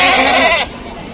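A goat bleats loudly and close at the Rajarampalli livestock market, one wavering call that cuts off midway, leaving a quieter background.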